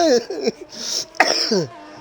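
Two harsh, abrupt coughs from a nearby person, each a short burst separated by a brief pause.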